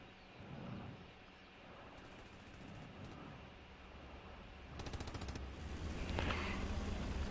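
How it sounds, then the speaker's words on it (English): Machine-gun fire in the World War II shooter Hell Let Loose during a tank battle: a quick burst of rapid shots mid-way, distant and faint, over a low rumbling battlefield background. "Firing MG."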